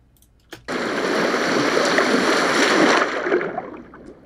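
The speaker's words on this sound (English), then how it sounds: "So if we play this water event" A water sound effect event plays back in FMOD audio middleware, a loud rushing, splashing flow that starts suddenly, holds steady for about three seconds and then fades out.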